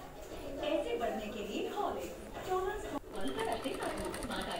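A sewing machine runs in steady bursts while stitching the back neck of a blouse, its whirring motor and needle chatter close by, with a brief pause near the middle and someone talking over it.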